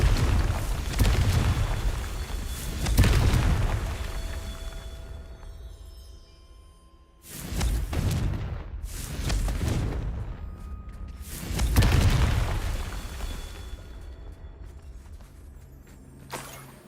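Repeated Confringo spell blasts in Hogwarts Legacy, three heavy booming explosions with rumbling decays between them, loud and close.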